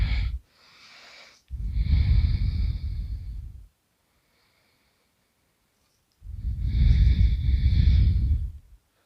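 Close, loud breaths during a yoga forward fold, with one long exhale followed by a quiet pause and then another long audible breath out.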